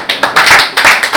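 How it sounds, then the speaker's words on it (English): Guests at a youth and student roundtable clap to welcome an honoured guest, a short close burst of brisk, uneven hand claps. "as we welcome with a huge round of applause"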